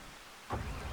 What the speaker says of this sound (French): Il commence à pleuvoir, mon Dieu.